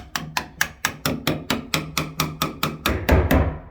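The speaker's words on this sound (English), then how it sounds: "Hopefully the sleeving will just tap in for us now." Pipe sleeving is tapped into place in a small cloakroom during first-fix plumbing: about fifteen sharp, evenly spaced hammer taps at a steady rhythm, close and loud, with no talk.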